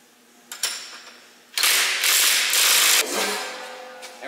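A ratchet works bolts through a Duramax truck frame to hold a fabricated bumper, a couple of short clicks followed by a loud, sustained ratcheting burst that fades out.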